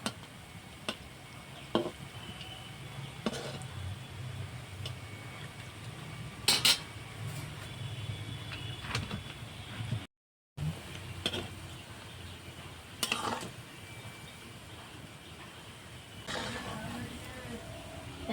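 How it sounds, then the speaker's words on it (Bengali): Gulab jamun made with milk powder frying in hot oil, gently turned with a spoon; a steady low bubbling runs under scattered sharp metal clinks of the spoon against the pan, with a brief gap midway. "তো মিষ্টিগুলো এইভাবে হালকা হাতে একটু উল্টে দিতে হবে।"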